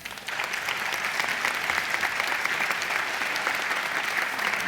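Steady, dense applause from a festival audience at a traditional costume gathering in Tiedra, Zamora, sustained and even throughout after a brief softer start.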